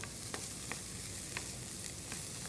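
Vegetables sizzle and brown steadily in a hot pan, a dense continuous crackle with occasional sharper pops, close and even in level.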